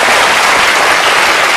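Loud, dense studio audience applause on a French television talk show, a continuous roar of clapping with no talking over it.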